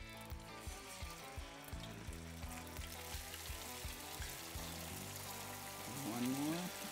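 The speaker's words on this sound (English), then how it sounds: "then you're gonna put these into your deep fryer" Calf fries (Rocky Mountain oysters) frying in a deep fryer of hot grease, a steady bubbling sizzle running throughout with clicking and rattling mechanical noises over it and a brief tonal squeal near the end.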